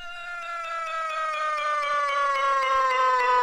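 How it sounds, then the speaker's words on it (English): Reason NNXT sampler synth note whose pitch falls steadily as a long attack time builds; a single sustained, nasal, meow-like tone slides downward while regular pulses tick through it, getting slightly louder, with no talking. "as the attack time rises over 4 seconds, the pitch will actually fall over this corresponding 4 seconds"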